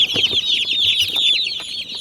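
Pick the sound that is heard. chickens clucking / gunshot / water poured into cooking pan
chickens clucking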